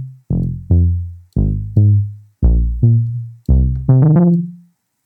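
A synth plays short plucked notes in pairs, each decaying quickly, with a resonant, gritty filter distortion coloring the tone; a quick flurry of notes ends it.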